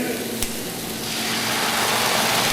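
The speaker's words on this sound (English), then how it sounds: "That's just sizzle in there." Loud, steady sizzling of homemade meatballs searing in a hot skillet, a continuous hiss that grows slightly stronger, with one brief clink early on.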